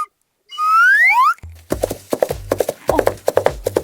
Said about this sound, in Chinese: 马蹄声